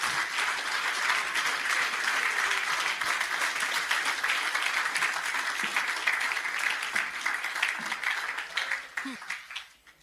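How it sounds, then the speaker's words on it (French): A church congregation in Pacific Harbour, Fiji applauds God in a steady, dense roar of clapping hands that runs unbroken and then fades away at the end, with voices faintly mixed in. "Applaudissez Dieu, applaudissez Dieu."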